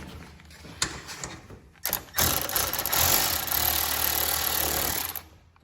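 A ratchet wrench working a bolt loose on a John Deere transmission, with rapid clicking mechanical bursts that grow into a steady, loud ratcheting run before stopping.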